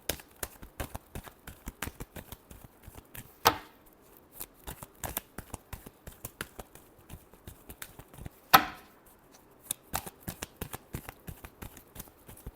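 Tarot cards are shuffled by hand close up, with a quiet, steady stream of riffling flicks and two louder bursts, and no talk.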